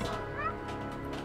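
A kitten meows in the video game Stray, a short rising mew over a steady layer of game ambience and music.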